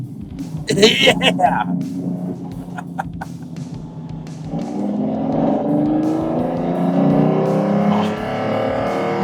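A Lamborghini Diablo GT with a gated manual gearbox revs loudly up close, the engine note rising, dropping on a shift, then climbing again, while someone talks over it.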